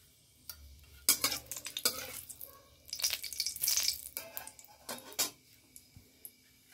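Dried red chillies and fenugreek seeds tempering in hot oil give a faint sizzle, broken by scraping and clinks of a spoon stirring in the pan.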